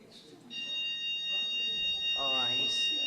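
A steady electronic alarm tone beeps in the background while someone commentates on a T20 cricket match in the foreground.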